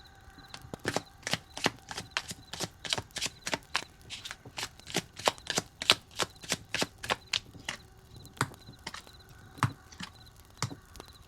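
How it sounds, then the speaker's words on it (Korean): Tarot cards are shuffled in a long run of crisp, evenly spaced riffling snaps, about two per second, close but soft, with no voice over them. "그러면 카드를 뽑아볼게요."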